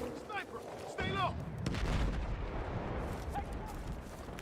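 Gunfire from a sniper rifle in a video game, an SV98, with a sharp loud crack near the start and heavy rumbling battle noise after, while a voice calls out over it.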